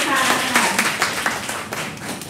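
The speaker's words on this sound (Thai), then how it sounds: "ขอเสียงปรบมือให้กับคุณหมอตาลพัชชัยเรืองศรีด้วยค่ะ" Audience clapping and applause at an oil party event for Dr. Tarn, a short burst of many hands clapping at close range.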